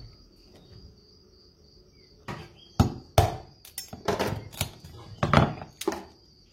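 Crab legs are cut and cracked for a Sri Lankan crab curry, a series of sharp, loud cracks and thunks clustered together after a quiet start, close by, with a faint steady background whine.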